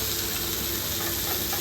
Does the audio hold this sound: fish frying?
yes